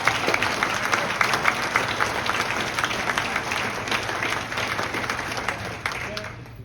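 An audience at an alumni dinner applauds, a dense burst of clapping from a crowd that fills the room and slowly thins toward the end.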